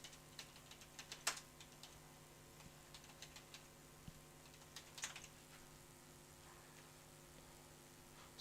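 Quiet typing on a computer keyboard, with scattered soft key clicks, a few sharper taps and a low steady hum underneath, heard up close without talk.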